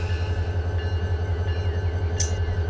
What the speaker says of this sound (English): trying to drive a train here